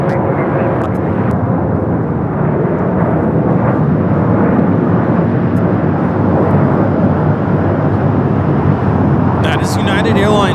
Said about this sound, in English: That is United Airlines 319 taking off to Puerto Vallarta on the 737-800.